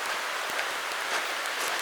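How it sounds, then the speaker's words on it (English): Steady outdoor rain falls as a dense, even hiss of drops with occasional louder splats, continuous and fairly close throughout, with no voices. "We're going to walk over here anyway in the rain"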